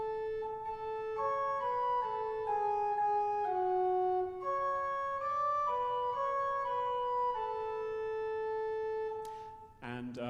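A pipe organ plays the hymn tune Herr Christ, der einge Gottessohn in a steady, sustained chordal line, with the melody moving note by note above held harmony, loud and full, ending with a brief clatter.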